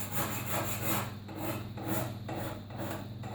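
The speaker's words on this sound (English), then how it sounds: "So few more scrapes, then I'm happy" A hand scraper shaves the wooden limb of a longbow during tillering, with close, steady rasping strokes repeated in a regular back-and-forth rhythm and no voices over it.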